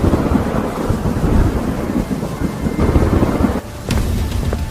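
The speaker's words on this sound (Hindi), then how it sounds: "बाहर मूसलधार बारिश हो रही थी।" Torrential downpour with rolling thunder, a loud, dense roar of rain that briefly dips near the end before resuming, with a couple of sharp cracks; no one speaks.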